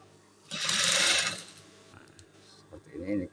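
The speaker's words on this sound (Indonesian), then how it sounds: "Kita jahit dulu, kita jahit mengikuti bentuk dari tambalannya ini seperti ini." A sewing machine runs in a single loud, steady burst, stitching a patch onto trousers along the patch's shape, then stops, followed by faint handling noises and a short voice.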